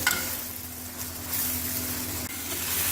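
Sliced onion and ginger-garlic paste fry in hot oil in a pot for chicken makhani, giving a steady, close sizzle that stays even throughout with no talking.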